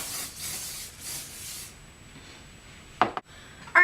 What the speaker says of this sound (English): Get some hairspray.